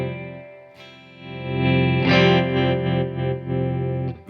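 Fender Jaguar electric guitar with both pickups on, a sustained chord ringing loudly through effects with chorus and mild distortion, then a fresh strum swelling brighter before a final pick attack.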